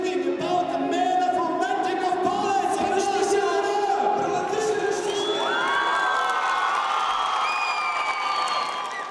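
A hall full of school students cheers, shouts and whoops while clapping, a loud sustained crowd roar with excited high voices rising above it, fading slightly near the end.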